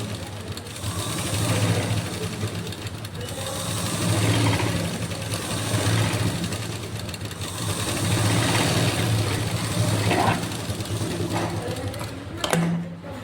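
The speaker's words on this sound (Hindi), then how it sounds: "ये हमने सिलाई लगा दी एक पैर की दूरी से।" A sewing machine runs in bursts while stitching a shirt collar, its rapid mechanical whir and ticking needle rhythm swelling and easing several times, close up, ending with a brief clunk.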